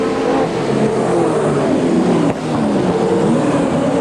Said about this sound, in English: Now watch Godsey close ranks on him as they go down the back here